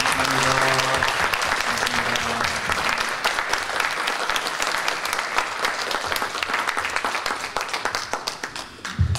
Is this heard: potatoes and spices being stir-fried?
no